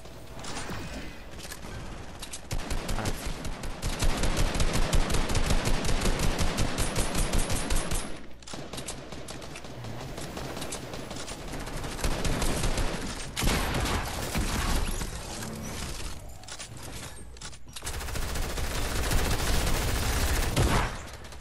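Automatic rifle fire in Fortnite, heard from roughly twenty meters away: long, dense rapid bursts of shots that cut off and start again several times, loud and steady, with no talking over them.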